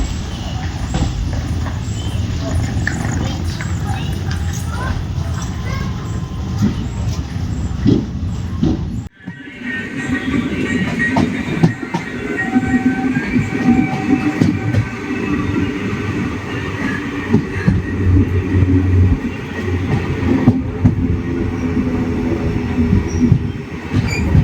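The Chennai to Thiruvananthapuram superfast express runs with a steady loud rumble of wheels on rail and clattering wagons, heard from on board. Partway through there is a brief drop in the noise, then continued rolling roar with faint squeals.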